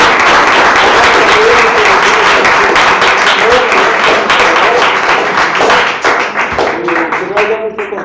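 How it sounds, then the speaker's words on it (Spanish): Church congregation applauding at a Sunday worship service, dense sustained clapping filling the room for several seconds and thinning toward the end, with voices calling out underneath. "Un aplauso,"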